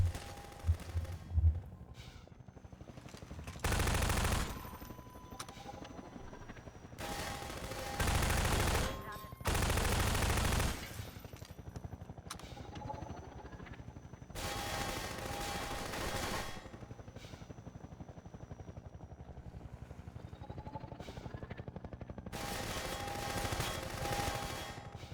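Heavy revolver shots from the Half-Life 2 game, several loud blasts spaced seconds apart amid sustained gunfire bursts and background game sounds, with a voice talking in between.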